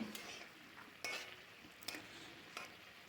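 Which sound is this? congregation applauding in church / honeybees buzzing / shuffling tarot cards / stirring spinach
stirring spinach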